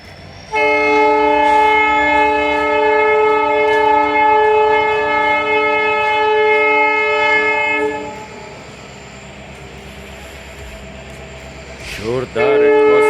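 A train sounds a loud, sustained horn for several seconds at the empty, fog-bound Bharatpur Junction railway station in UP, then a low rumble lingers. A voice briefly cuts in near the end.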